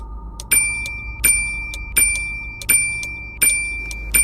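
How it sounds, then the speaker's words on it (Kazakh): A bell rings over and over in quick, even strikes, each a bright metallic ding with a short ringing tail, steady and fairly close above a low constant hum. "Қоңырау соғыла берді."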